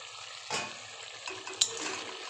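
Spices with turmeric and salt being stir-fried in a pan for a potato and cauliflower curry, a quiet crackling sizzle broken by two brief scraping clatters of a spatula.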